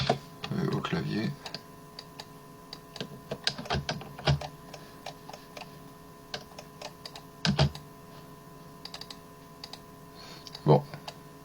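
Computer keyboard typing in a woodworking workshop, scattered bursts of crisp clicks and taps separated by pauses, fairly close and moderately quiet against a faint background hum.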